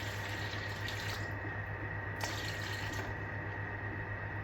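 Cold water runs steadily from a tap into a bowl or jug while measuring 570 ml for a no-knead bread dough, a continuous close hiss and trickle with no talk.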